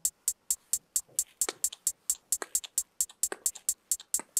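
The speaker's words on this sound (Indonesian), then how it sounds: "close hi-hat." Closed hi-hat sample in a programmed beat, crisp tight ticks repeating in a steady fast pattern with occasional brighter accents, dry and upfront with no talking.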